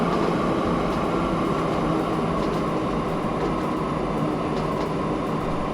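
Electric trains running in the Train Fever simulation game, a steady continuous rumble of rolling rail cars with faint wheel noise, loud and unbroken throughout with no talking.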